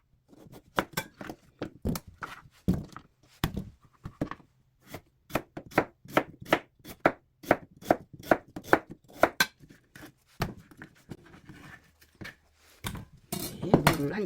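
A knife chops Korean radish on a cutting board for braised dried pollock, giving a long run of sharp, close knocks that come in quick bursts with short pauses, plus a few clinks of kitchenware near the end.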